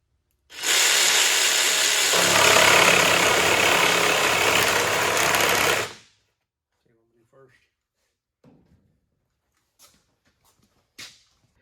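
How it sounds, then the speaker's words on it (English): A jigsaw cuts into wood on a work table, a loud continuous buzzing rasp running about five seconds before stopping abruptly, followed by quiet with a few faint knocks and brief sounds. "I'm gonna try to use jigsaw so it won't be so bad"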